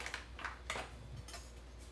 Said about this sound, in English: We're going to mix that all up.